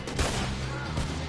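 Gunfire in Red Dead Redemption 2, a few sharp shots cracking out close together in quick succession, fairly loud with no talking over them.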